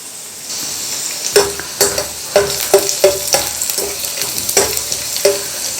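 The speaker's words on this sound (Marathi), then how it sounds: "थोडासा लसूण परतून घेऊया" Chopped garlic stir-fried in hot oil in a pan for a sprouted moong bean soup, giving a steady sizzle broken by a string of scraping stirring strokes, close and fairly loud, with no talking.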